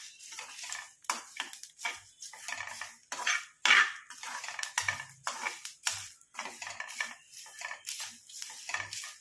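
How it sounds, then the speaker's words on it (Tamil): A utensil stirs and scrapes homemade hair dye ingredients roasting in a dry pan, giving quiet, irregular metallic clinks and taps close by with no talk. "நல்லா வறுபடட்டும்."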